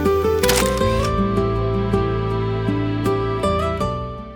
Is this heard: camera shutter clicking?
yes